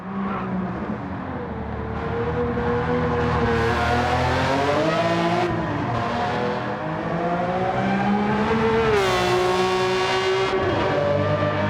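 A Ferrari 330 engine in Gran Turismo 7 races continuously and loud, its tone sweeping up and down through gear changes with a sharp climb near the end, with no voices.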